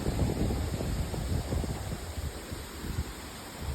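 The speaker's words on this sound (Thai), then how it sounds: "ลมแรงมาก พี่น้องลมแรงจ้าดูต้นไม้นะคะ" A strong wind gusts through trees near a house in Ban Don Muang, Korat. It makes a continuous roaring rush with heavy buffeting on the microphone and no voices.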